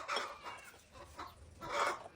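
Chickens clucking close by in a village yard, a few short bursts of clucks with brief pauses between.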